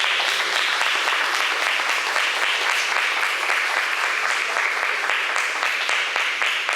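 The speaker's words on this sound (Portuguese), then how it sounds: "aplauda a palavra do Senhor." A church congregation applauding during a family worship service, sustained, even clapping from many hands, steady and fairly loud from start to finish with no one speaking over it.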